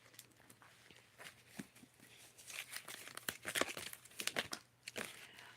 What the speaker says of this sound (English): And you see me shuffling